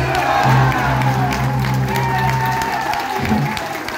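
A crowd claps for a group of payadores at the opening of an Independence and payada festival, sustained applause with scattered cheers and a humming sound system underneath, continuing evenly throughout.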